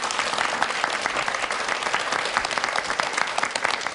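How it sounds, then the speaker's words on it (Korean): An audience at a talk applauds the speaker, a thick, continuous spread of clapping from many people that holds at an even level for a few seconds. "박수 한번 주세요."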